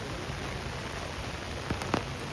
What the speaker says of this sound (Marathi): रिमझिम झिमझिम पाऊस चालू झाला